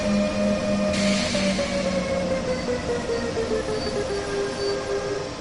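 In Train Sim World 2, a locomotive couples onto a wood freight train on a siding at Aachen Rothe Erde. A sharp clank lands early over a steady rail rumble and a tonal hum that slowly falls.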